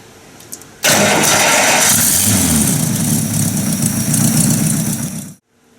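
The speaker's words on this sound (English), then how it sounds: "I'm going to go ahead and turn the motor over and see just what kind of fuel return we get" A 1950 Buick Roadmaster engine is cranked over during a fuel-pump test, a loud, steady churning roar that starts abruptly, holds for several seconds close to the microphone, then cuts off.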